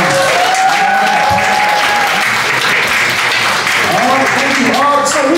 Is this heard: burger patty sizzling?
no